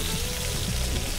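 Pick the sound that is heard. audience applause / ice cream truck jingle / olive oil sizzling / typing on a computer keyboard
olive oil sizzling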